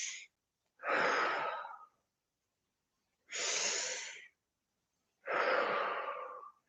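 Three long, deep breaths are drawn and released in a slow breathing exercise, each a close, airy rush lasting about a second, separated by stretches of near silence.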